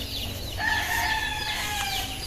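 Native chickens in a farm coop cluck and call in a steady, close chorus, with brief higher cries rising over a constant background murmur of the flock.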